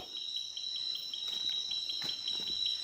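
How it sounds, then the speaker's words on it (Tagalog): A cricket chirps steadily in a forest at night, its high, continuous pulsing trill close and constant with faint rustling underneath and no voices. "Yung tunog na yun. Baka kulisap yun."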